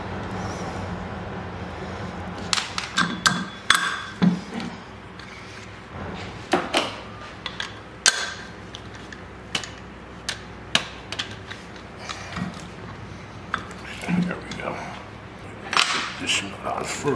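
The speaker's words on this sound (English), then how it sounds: "this cup here is obviously sits on here. Right. So you can pull the bearing through." Bearing puller drawing the wheel bearing out of a Harley-Davidson Road Glide wheel, heard as repeated close metallic clicks and ratcheting knocks at an irregular pace over a steady background.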